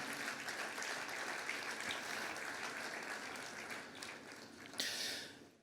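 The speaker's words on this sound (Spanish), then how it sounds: "Fuerte ese aplauso de alabanza al Señor." Congregation applauding in praise to the Lord at a church revival service, a sustained, fairly distant wash of clapping that slowly thins, with a brief louder burst near the end.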